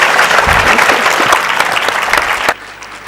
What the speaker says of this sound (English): a big round of applause for Sanjeev, Marlon, Anuradha, and Anjum